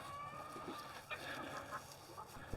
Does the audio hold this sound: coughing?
no